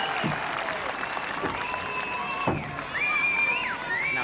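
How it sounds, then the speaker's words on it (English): Applause from a studio audience for a contestant's run on a televised 1980s games knockout show, continuous crowd clapping under whistles and other tonal sounds sliding in pitch. "Give him a round of applause."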